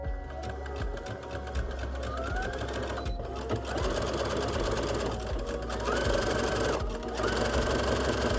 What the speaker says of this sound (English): on the other side I'm gonna make little zigzag stitches